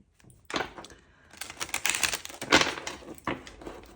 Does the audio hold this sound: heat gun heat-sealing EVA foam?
no